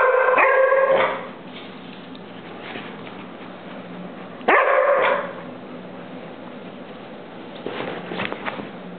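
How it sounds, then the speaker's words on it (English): A dog barks in two loud, close bursts with quieter rustling and faint movement between them. "stop barking"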